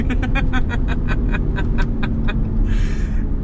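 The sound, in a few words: RAM 1500 pickup accelerating, 3.0 twin-turbo inline-six petrol engine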